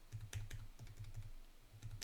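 Computer keyboard typing with arrow keys pressed to move a cursor, a quick run of light, evenly spaced clicks close up, alone in a quiet room.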